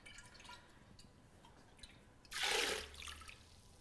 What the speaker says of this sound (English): I usually just give them one final little rinse once they're in the strainer